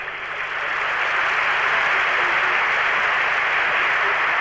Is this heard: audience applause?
yes